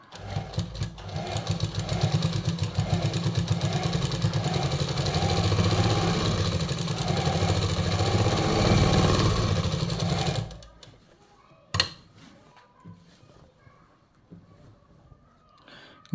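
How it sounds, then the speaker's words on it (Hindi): A sewing machine runs steadily for about ten seconds while a kurta seam is stitched over again, then stops, followed by a brief clack and faint handling noise. "बिठाने के बाद इसके ऊपर से दोबारा एक सिलाई लगा देना है।"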